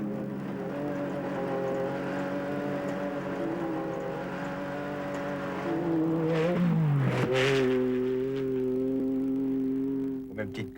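Renault rally truck with a 285 hp non-turbo engine at the Paris-Dakar rally, a droning engine hum that climbs in pitch through a gear change midway, with speech running underneath.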